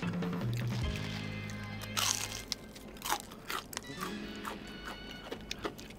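Crispy Indonesian fried chicken is chewed close up, with sharp crunches and wet bites in an irregular rhythm after a brief rustle at the start.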